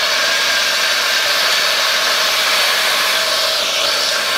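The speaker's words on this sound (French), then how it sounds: "je préfère faire ça et tester et voir direct la puissance d'aspiration" A Roborock H6 cordless vacuum cleaner running on low mode while sucking up large screws, a steady loud whooshing hiss of airflow throughout, close and alone.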